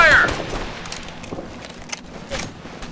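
Gunfire in the military shooter game Operation Flashpoint: Red River, with a burst of shots at the start followed by scattered distant reports under a steady ambient battlefield wash.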